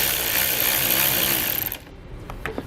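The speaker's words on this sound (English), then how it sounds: "we'll loosen up one of the nuts on top here" A 10mm socket works loose a nut on top of a 2014 Jeep Wrangler battery: a steady, loud, buzzing mechanical whir for nearly two seconds, then quieter scattered clicks and light metal taps close by.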